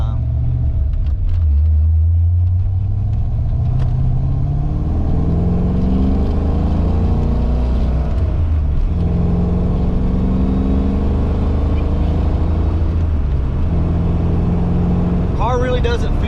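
A drag car on a quarter-mile run, running more ignition timing and prone to spinning one tire, accelerates with a loud, steady engine rumble that climbs and falls through gears over about sixteen seconds, close and continuous, with talk over it.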